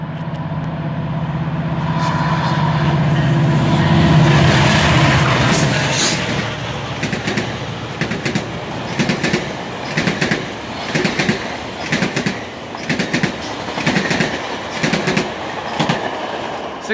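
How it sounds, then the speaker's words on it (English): A GO commuter train rolls into Danforth station with a rising rumble and a low squealing tone, then slows into a steady, rhythmic clickety-clack of wheels over rail joints. "Go train coming in."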